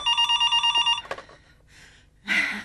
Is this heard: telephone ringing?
yes